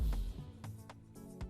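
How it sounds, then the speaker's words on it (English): Impact sound effect sample from an Afrobeats-style beat remake: a heavy low boom opens, followed by a few lighter, evenly spaced hits that fall on the beat, close and alone with no voices. "next up we have this impact that came in exactly with the beat"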